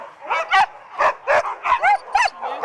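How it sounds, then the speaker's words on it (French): Sled dogs on sandy ground with no snow, barking and yipping close by in a rapid series of about eight excited, high-pitched barks with whiny edges. "balade avec des chiens de traîneau"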